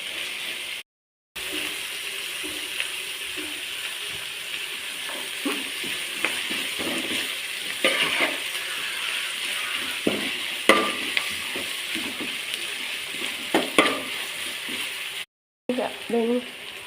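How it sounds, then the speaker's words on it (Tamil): Onions sautéing with salt in a pan for chicken curry make a soft, steady sizzle with occasional stirring scrapes and clinks, heard close up over a low hiss, with brief gaps of silence. "வெங்காயம் சீக்கிரம் வதங்கணும்னா கொஞ்சம் உப்பு சேர்த்தா போதும் அப்போது சீக்கிரம் இந்த வெங்காயம் நல்லா வதங்கி வரும்"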